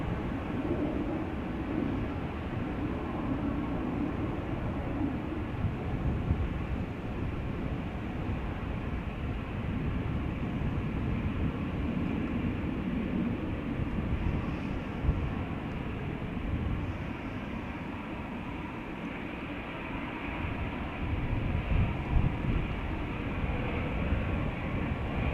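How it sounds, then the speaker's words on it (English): German Airways Airbus A380 taking off from the runway threshold at Amsterdam Schiphol Airport, a steady, loud, broadband engine roar that holds throughout without a break. "Right, German Airways taking off from the threshold. A380 assigned to Amsterdam."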